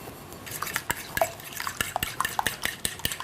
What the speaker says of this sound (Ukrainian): Щоб не утворювалися грудочки, потрібно постійно помішувати до загустіння.